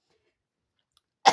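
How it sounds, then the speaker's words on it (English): A single short cough bursts out near the end after near silence, close and fairly loud. "Sorry, guys, I cough."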